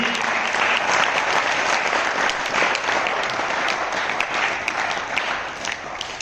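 A large audience applauds Olympic wrestling medalist Yogeshwar Dutt at an International Yoga Day event, with steady, dense clapping that holds loud throughout and eases slightly toward the end.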